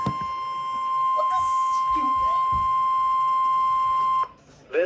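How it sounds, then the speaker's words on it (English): NOAA Weather Radio warning alarm test, a steady loud tone holding for about four seconds before cutting off, with weather radio broadcast audio and a voice faintly under it. "This is a test of the NOAA Weather Radio Warning Alarm."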